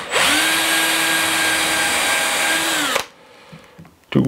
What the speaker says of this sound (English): drill that is a bit thinner than this one, just to make sure that the wood doesn't crack